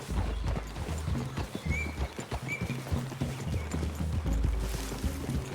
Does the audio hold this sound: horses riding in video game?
yes